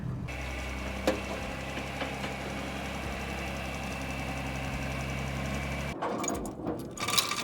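An old John Deere 4020 tractor engine with engine trouble idles with a steady, low knocking rumble and a rhythmic chug, then cuts to a noisier, clattering stretch near the end.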